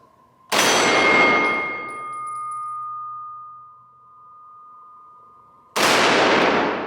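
Two loud, close gunshots fired at night, several seconds apart, each a sharp blast followed by a long ringing decay into near silence.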